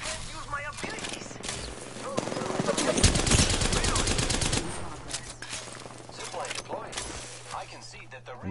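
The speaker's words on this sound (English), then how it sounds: "The enemies are shooting at me." Enemy gunfire rattles in a PS4 shooter game, sustained machine-gun bursts and scattered shots peaking in a dense volley midway, with a player talking over the exchange.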